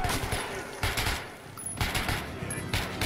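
Gunfire in the post-apocalyptic shooter Metro: Last Light, with a few loud bursts of shots spaced across a continuous noisy in-game backdrop.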